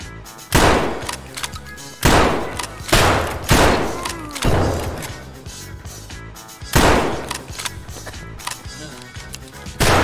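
Shotgun blasts in Escape from Tarkov, a handful of loud, booming shots spaced irregularly with ringing decay between them, close and dominant with no talk.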